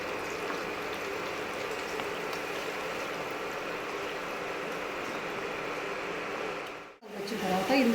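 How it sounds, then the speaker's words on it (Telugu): Tempering seeds frying in oil for an instant mango pickle give a continuous soft sizzling hiss that briefly drops out near the end before returning louder, with no talk over it. "ఇందులో కొన్ని తాలింపు గింజలు కూడా వేసుకున్నామండి."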